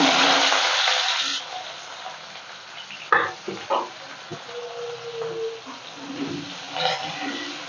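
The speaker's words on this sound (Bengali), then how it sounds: "পেঁয়াজটাকে একটু নাড়াচাড়া করে নেবো ভালো করে, পেঁয়াজ আর রসুনটা একটু নেড়ে নেব।" Onion and garlic, with dried chillies, frying in a pan, a steady sizzle that fades after the first second, followed by scattered scraping and clatter as the mixture is stirred.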